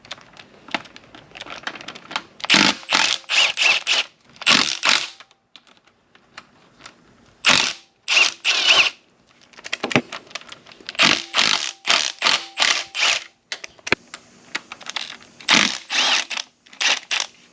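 Bolts are backed out of the tail housing of a TH400 automatic transmission, giving quick clusters of sharp metallic clicks and ratcheting bursts separated by short pauses, close and dry with no talking.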